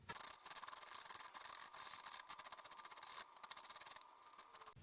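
Garlic rubbed against a metal kitchen grater, a rapid run of close, rasping scrapes in a steady back-and-forth rhythm with one brief pause, alone without talk.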